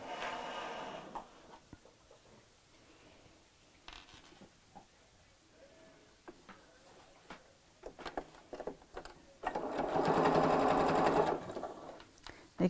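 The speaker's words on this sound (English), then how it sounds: "I'm just going to sew straight across the bottom" A sewing machine stitches a seam across a chenille clutch bag in short, quiet bursts, then runs loudly and steadily for about two seconds near the end.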